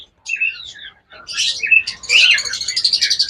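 A pair of red diamond doves gives bright, rapid chirps and tweets in short bursts, close and clear, with a brief pause before a run of quicker repeated calls.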